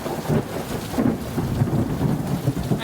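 Steady rain falling outdoors during a July summer thunderstorm, a dense continuous wash with low rumbling swells of thunder throughout, no voices.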